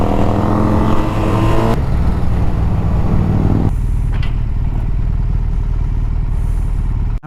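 A 2018 Triumph Bonneville T120 engine drones loudly up close on a test ride, its pitch shifting at two points as the rider changes speed, with a steady roar between.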